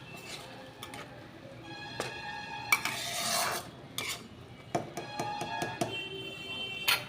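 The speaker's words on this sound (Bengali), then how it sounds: "মশলাটা রান্না হচ্ছে।" Spice paste for an elephant foot yam curry cooks in a pan as a spoon scrapes and clinks against the metal in irregular strokes, with a soft sizzle underneath, fairly close and moderately quiet.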